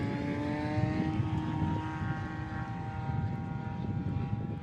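A STOL propeller airplane with slats takes off at a Rocky Mountain short-takeoff competition; a steady, loud engine drone with a strong propeller hum runs continuously throughout without pause.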